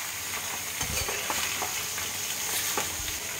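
Potatoes and onions frying together in a pan, a dense, close sizzle of hot oil with soft scraping stirs at intervals and no talking.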